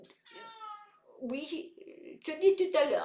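A domestic cat meows a few times close by, one drawn-out cry opening and shorter calls following, mixed with someone talking softly over it.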